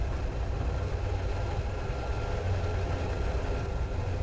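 A steady, dense rumble of a train running through a long tunnel, a continuous low roar with no breaks.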